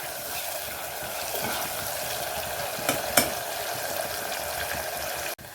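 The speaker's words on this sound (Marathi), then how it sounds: "1 चिरलेला टमाटर। हे पण तेलामध्ये चांगलं परतून घ्यायचं आहे।" Chopped tomato frying in oil for a cauliflower kheema, giving a soft, steady sizzle with a few stirring clinks midway before it cuts off abruptly.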